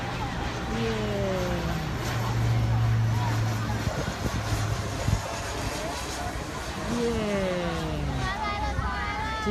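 A propeller airplane arrives at the Lanyu island airport, its engine drone rising and falling with Doppler-like sweeps under a crowd of cheering voices and chatter.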